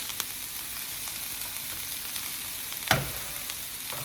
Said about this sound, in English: So we're gonna saute these veggies.